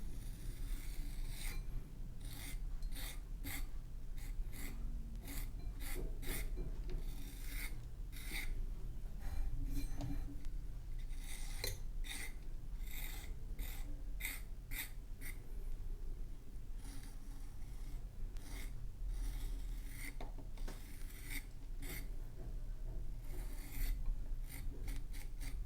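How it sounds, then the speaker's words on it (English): A larger hand blade carves low-relief wood to taper an angle, giving a close series of short, dry rasping scrapes in irregular bursts, with no talking. "I'm going to switch to the larger blade now and just kind of taper this angle even more"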